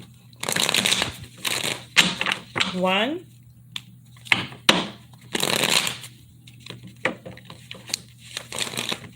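Tarot cards shuffled in several quick riffling bursts separated by pauses, with a brief spoken word partway through.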